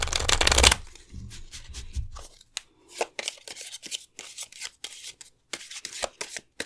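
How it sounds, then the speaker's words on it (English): Tea Leaf Fortune oracle cards being shuffled by hand: a loud riffle at the start, then a long run of quick crisp card slaps and flicks in uneven rhythm, close up with no talk. "let's draw the oracle deck that I had spoken about"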